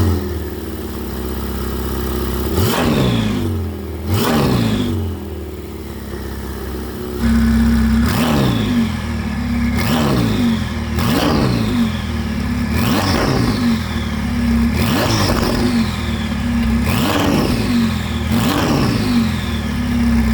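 Novitec-tuned Ferrari 488 GTB engine revved repeatedly, a series of about a dozen sharp rising blips close and loud, settling back to an idle between each.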